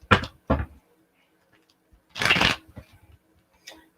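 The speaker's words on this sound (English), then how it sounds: "Let's get 4 shuffles." Tarot cards shuffled in a few quick riffling bursts, the longest in the middle, with short pauses and faint handling noise between them, close and fairly quiet.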